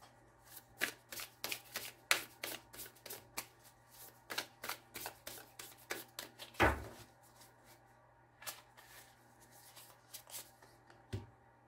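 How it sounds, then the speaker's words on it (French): Tarot cards being shuffled by hand, a rapid run of crisp riffling flicks close to the microphone, followed by a few slower, scattered card snaps and slides near the end. "Je voulais remettre une carte de tarot, quand même."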